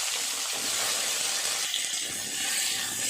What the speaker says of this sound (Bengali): আলু আর কচুরমুখীগুলো দিয়ে একটু ভাজা করে নেব।